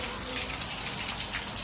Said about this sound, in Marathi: बापरे पाऊस चालू झाला.